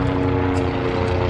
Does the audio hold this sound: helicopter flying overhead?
yes